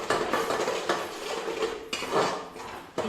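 Onion-tomato masala with added spices is stirred and sautéed in a pan over low heat for a chicken curry, with close, repeated scraping and clinking of a spoon against the pan and no talking.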